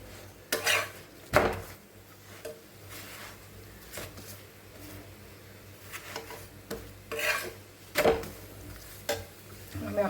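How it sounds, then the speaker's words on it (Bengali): A sweet potato paratha shallow-fries in a little oil, giving a soft sizzle. Repeated metal scrapes and pan knocks cut through it in short bursts, close by. "একদম অল্প তেল দিলাম, বেশি দিলাম না, হালকা অল্প করে ভেজে দিচ্ছি আমি"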